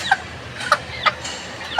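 A Bangladeshi native (deshi) rooster clucks in short, sharp bursts, four or so evenly spaced calls close by over a quiet background.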